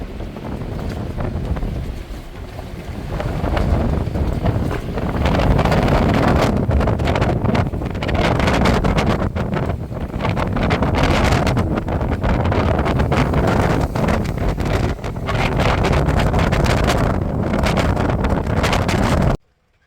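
Strong, steady wind of about 30 knots gusting to 40 roars and buffets the microphone at a boat anchorage, a dense rushing noise with gusts, loud and close, cutting off abruptly at the end.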